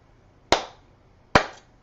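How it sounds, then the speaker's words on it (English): Two sharp, single hand claps about 0.8 seconds apart, close and fairly loud, each ringing briefly before a quiet pause, a slow mock applause at a cannabis advocacy conversation event. "I'm going to kind of give it a little A applause. little slow clap."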